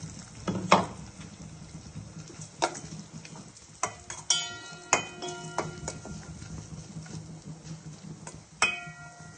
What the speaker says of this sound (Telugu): ఆయిల్ కొంచెం హీట్ ఎక్కినాక రసం పౌడర్ వేసుకోవాలి